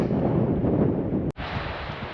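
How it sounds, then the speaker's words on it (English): A steady roar of wind and surf on the open Atlantic coast of Portugal between Arrifana and Vila do Bispo, continuous and fairly loud, heard from back from the shore, with a brief dropout partway through. "We got the sound of the sea again."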